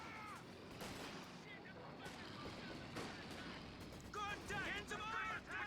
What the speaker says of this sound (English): We have some mortar fire coming in, we have Vickers running in.